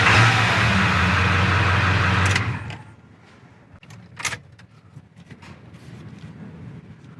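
A 7.3L Power Stroke diesel engine runs loudly and roughly for about two seconds at close range during a steering pump install, then shuts off, leaving a quiet garage with a few small clanks and knocks.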